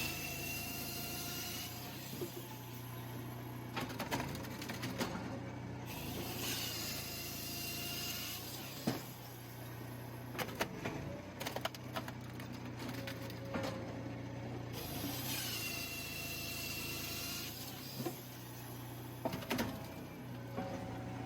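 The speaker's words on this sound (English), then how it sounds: "the saw comes down, cuts the block, and it drops down into the cutting chamber." A firewood processor saw cuts fir logs into blocks, with a steady machine drone broken by repeated bursts of cutting noise and sharp knocks as blocks drop, heard at moderate distance without talk.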